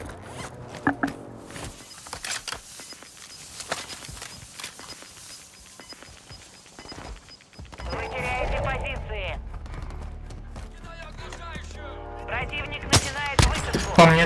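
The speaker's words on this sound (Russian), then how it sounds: "В спине, типа, стреляют по мне." Gunfire from the video game Warzone 2: sharp shots and short bursts crackle through the first half, then voices talk over a busier stretch with more scattered shots near the end.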